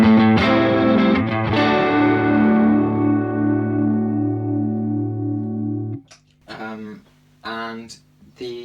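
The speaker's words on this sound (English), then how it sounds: "If you're using 2 amps, obviously use the chorus in stereo." Electric guitar run through a Triungulo Lab CE-1 chorus in crunch mode, split stereo into two amps with reverb: a loud sustained chord ringing out and decaying for about six seconds, followed by a few shorter choppy strums.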